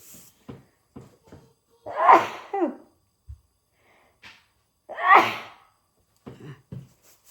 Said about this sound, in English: that pepper's going to make me sneeze.